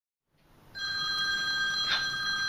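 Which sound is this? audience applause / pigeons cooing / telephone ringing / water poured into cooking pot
telephone ringing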